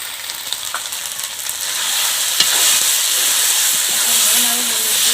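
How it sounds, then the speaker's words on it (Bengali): Potatoes stir-frying with spices, salt and turmeric for a village-style desi chicken dish give a steady close sizzle and hiss, with light stirring scrapes and a faint tonal hum. "নুন আর হলুদ দিয়ে ভালোভাবে মশলার সাথে কষানো নিয়ে আলুটাকে।"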